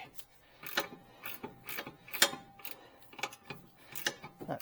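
Ratchet wrench clicking in short, uneven bursts while loosening stubborn brake bolts on a Hyundai Sonata during a rotor and pad change, close and fairly quiet.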